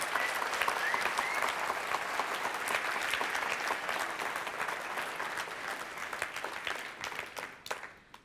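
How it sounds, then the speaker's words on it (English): A conference audience gives a big round of applause to a company's CTO and product team at a marketing talk, sustained dense clapping from many people that thins and fades out near the end. "give them a big round of applause"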